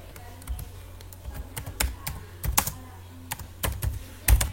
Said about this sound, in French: Il suffit d'aller sur Google et de taper Typing Master Pro.